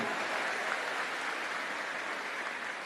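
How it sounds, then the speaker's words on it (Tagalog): A crowd at a public government service fair in the Philippines claps loudly and steadily, a dense sustained applause with no voices over it. "Malakas na palakpak mga tugang."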